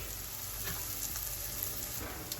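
Garlic goes into a pan with translucent sautéed onions and sizzles in a steady, dense frying crackle, quiet but continuous, with faint stirring scrapes and no talking.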